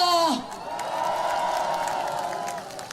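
Crowd at a Korean Democratic Party political rally cheering and clapping, a sustained roar of voices with whoops over steady applause after a brief loud opening tone, holding at a fairly even level throughout.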